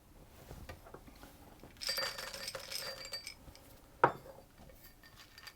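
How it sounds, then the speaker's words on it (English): Chocolate chips dropped into friand batter for orange and caramel friands, heard as a few small, close clinks and taps against a bowl, with one sharper tap near the end and no talk. "I'm going to just take a few of these chocolate chips, and I'm going to drop them"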